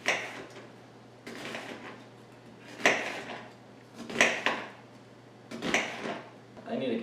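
Kitchen clatter as a bigger cutting board is fetched: several separate knocks and scrapes of boards and utensils, moderately close, with quieter pauses in between.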